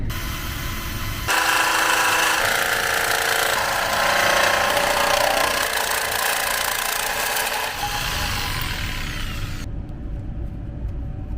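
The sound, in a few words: jigsaw cutting a hole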